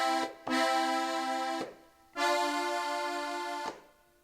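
Styrian button accordion playing the upbeat of a tune, two sustained reedy chords, a short one then a longer one after a brief breath gap, close and clear with no talking.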